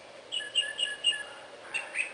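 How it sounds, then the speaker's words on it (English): A mockingbird sings a quick series of bright, repeated chirping phrases, clear and moderately close with brief pauses between them and no other voices. "I want to see if I want examples of a mockingbird doing sounds"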